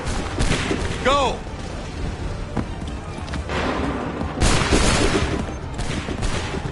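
Assassin's Creed 3 musket volley gunfire, loud booming bursts and ragged fusillades rolling through a battle scene, with shouted commands between the shots.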